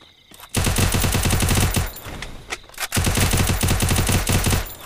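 Rapid automatic gunfire from the battle royale game Free Fire, two long loud bursts of fast repeating shots separated by a brief pause.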